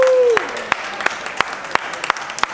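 A small live audience at a Q&A boot camp claps in a quick, steady rhythm, with sharp individual claps spaced evenly. A brief tone fades out at the start.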